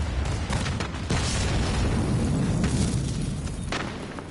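A vehicle explodes in a military video game, giving a dense, loud rumbling blast that sustains with crackling bursts before tapering off slightly toward the end.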